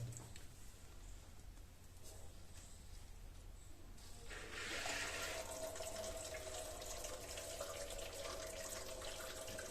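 A tap runs steadily through an instant mini water geyser into a bucket, the pouring growing louder and fuller midway, with a faint hum beneath.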